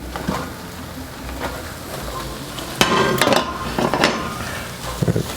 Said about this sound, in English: let's go ahead and throw our mushrooms in here